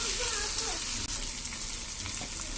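Potatoes and tomatoes with ginger-garlic paste fry in a pan with a steady, close hiss and sizzle, plus faint stirring, and no one speaks over it.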